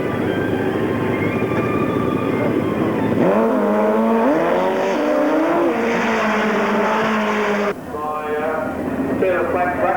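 Drag racing motorcycle engines, including a Harley-Davidson, rev loudly at the start line of a 1993 European Drag Bike Championship final at Avon Park, pitch rising and wavering, then cutting back, with an announcer talking over them.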